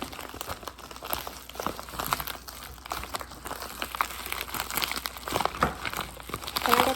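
Plastic packaging around a large Rubik's Cube being torn and crinkled open, a quiet, close, irregular stream of crackles and rips with no talk.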